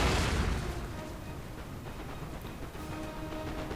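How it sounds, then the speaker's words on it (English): Heavy artillery fire in the game Napoleon: Total War, a dense continuous rumble of cannon booms and battle din, loudest at the start and holding steady throughout with no clear breaks. "taking some heavy artillery there"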